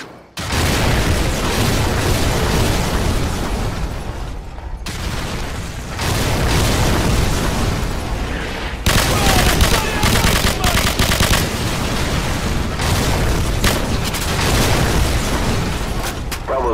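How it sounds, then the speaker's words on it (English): A danger-close fire mission in Call of Duty 4: Modern Warfare on PC brings loud, sustained artillery explosions with rapid gunfire layered over them in a dense, near-continuous barrage. "Warhammer, fire mission, danger close. Enemy armor and infantry, 100 meters to the southwest of our location."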